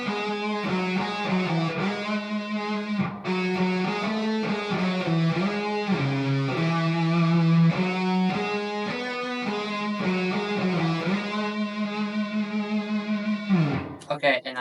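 Distorted electric guitar with effects plays a sustained, singing riff from a song, held notes shifting pitch steadily for about fourteen seconds before stopping abruptly, loud and close with no talking over it.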